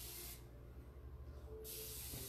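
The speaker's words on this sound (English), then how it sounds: "So I'm gonna use my water bottle. And I'm just gonna squirt in the corners" A water spray bottle squirts onto glass in two bursts, a hissing spray at the start and another after a quiet gap, close and fairly soft.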